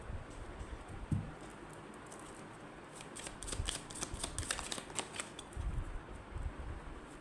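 Tarot cards being shuffled by hand in a quiet room, a soft run of papery riffles and flicks building in the middle of the stretch, close and faint, with no talking.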